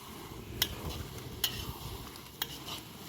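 Onions stirred and frying in a pan at a night campsite, a steady soft sizzle under occasional sharp scrapes of a utensil against the metal, close by with no talk.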